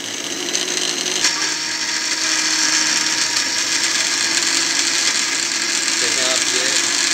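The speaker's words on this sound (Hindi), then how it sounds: "ये सब मिक्सी में डालने के बाद हम इसको मिक्स करेंगे" Kitchen mixer grinder blending soya wadi chutney ingredients with curd, a loud continuous whirring motor grind with rattling that runs steadily throughout, close up and alone.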